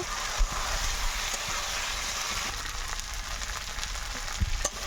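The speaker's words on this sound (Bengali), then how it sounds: "আলুগুলো দিয়ে আরো কিছু সময় একটু কষিয়ে নেব।" Potatoes frying with spices in a pan make a steady, close sizzle that runs continuously, with faint stirring clicks and no voices.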